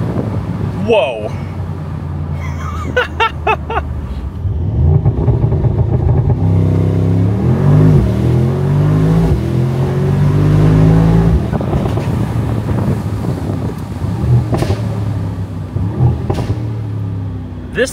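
A Mercedes SL63 AMG engine in Sport Plus mode revs and accelerates, its loud rising roar sweeping upward through the middle of the run over wind rumble, then easing off into lighter bursts.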